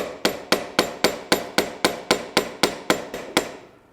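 A small hammer taps the threads on a starter motor in a steady run of about thirteen sharp, ringing strikes, evenly spaced and close, with no talking.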